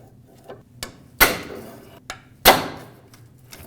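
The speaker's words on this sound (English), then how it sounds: "The easiest way to take this off, because it's a one-time use retainer, is with a pry bar and a hammer. Just punch it and it'll break off." A hammer drives a pry bar against a one-time-use metal boot retainer during inner tie rod work on a 2009-2010 Dodge Ram 1500. Two sharp, close metallic strikes ring out, with a few lighter taps between them.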